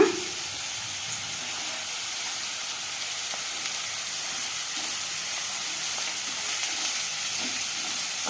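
Green chillies sizzle in hot oil in a pan while making girmitti mirchi bajji, a loud, continuous frying hiss that holds steady throughout with no voices.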